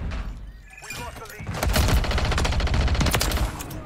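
Rapid bursts of gunfire from Call of Duty Modern Warfare 3 multiplayer, a dense fusillade of automatic shots that starts after a brief lull and continues loud and steady.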